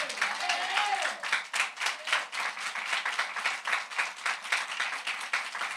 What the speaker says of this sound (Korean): 그렇게 믿으시는 우리 하나님께 박수를 드립니다.